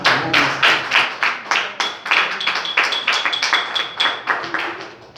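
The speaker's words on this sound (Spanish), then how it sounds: "Denle un fuerte aplauso a Cristo Jesús." Congregation in a church clapping together in a steady, fairly loud rhythmic pattern of distinct claps, sustained for several seconds without talk.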